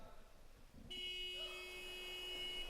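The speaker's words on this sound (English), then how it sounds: "And the whistle sounds, the buzzer, the teams are there." A buzzer sounds at the start of a Euroleague qualification game between Krefeld and Fysalis, a sudden steady electronic tone cutting in and holding under faint arena noise.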